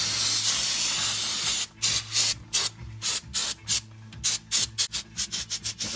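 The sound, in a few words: spraying brake cleaner on brake caliper and rotor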